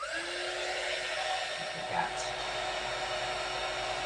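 A hair dryer blows steadily on a journal page, a constant close whirring hiss with a faint voice murmuring briefly underneath.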